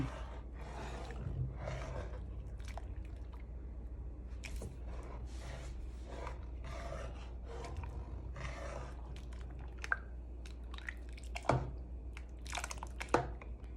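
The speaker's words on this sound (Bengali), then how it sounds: "এখন ভালো করে নেড়ে চেড়ে নিব" Milk and powdered milk stirred together in a pot for payesh (rice pudding), giving a series of scraping, sloshing strokes over a steady low hum, with a few sharper clinks near the end.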